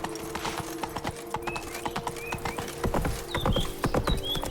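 A horse in The Witcher 3 video game gallops with a rapid, rhythmic clip-clop of hooves, close and clear, with short whinnies breaking in over the steady hoofbeats.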